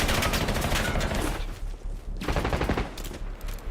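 Video game gunfire from a battle-royale style war zone match, with dense rapid bursts of automatic shots packed close together, loud and near, briefly easing before resuming.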